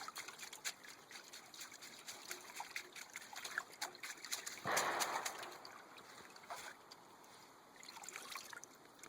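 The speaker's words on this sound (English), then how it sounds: "Sometimes just bounce it on the water a little bit." Sluice mats being rinsed and bounced in a tub of creek water while cleaning up a low-velocity sluice, giving soft trickling and splashing with a fuller slosh midway, quiet and close.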